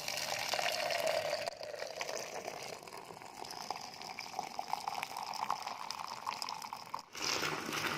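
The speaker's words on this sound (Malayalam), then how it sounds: "കപ്പിലോട്ട് പാല് അരിച്ച് ഒഴിക്കാം." Strained dry ginger (chukku) coffee pours steadily into a cup with a continuous soft splashing trickle, close and fairly quiet, with a brief break near the end.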